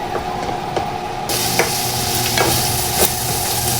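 Ground pork stirred in a hot pan for ginisang upo, a steady sizzle with short scraping strokes of the spatula, close and continuous, with no voices.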